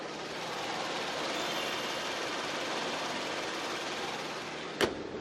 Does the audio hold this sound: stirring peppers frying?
no